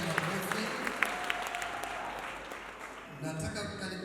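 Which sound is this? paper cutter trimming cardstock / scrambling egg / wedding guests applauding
wedding guests applauding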